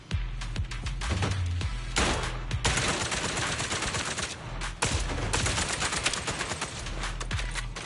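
Rapid, loud gunfire at a harder-difficulty shooting range in Zenless Zone Zero, with close shots packed in quick repeated volleys and almost no gaps.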